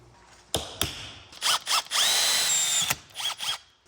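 A power drill boring a hole in a Honda Talon UTV, with short bursts of whirring and one sustained high whine as the bit cuts through, separated by clicks and pauses.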